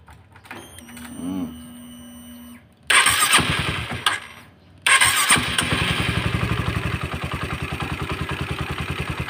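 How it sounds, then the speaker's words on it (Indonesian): A Honda CB150 motorcycle engine cranks briefly, fails to catch, then cranks again and fires into a loud, steady, rhythmic idle close by. "Sekarang kita hidupkan motornya."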